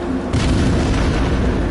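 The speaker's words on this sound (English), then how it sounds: "Oh, we're getting hit by artillery tanks." Artillery shells slam into a tank in World of Tanks, a sudden loud boom about a third of the way in followed by a heavy, sustained rumbling roar.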